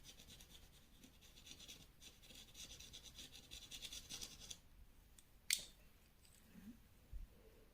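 Dry pastel stick rubbing and scraping across paper while shading a wolf's muzzle, a soft, steady scratchy texture of close strokes, followed by a sharp tap and a few quieter rubs.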